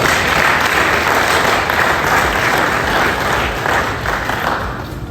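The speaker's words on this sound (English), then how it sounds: "I think she deserves a round of applause." Steady, dense applause from a large audience at the official launch of the KNUST Student Week celebration, a loud, even wash of clapping that holds throughout and eases slightly toward the end.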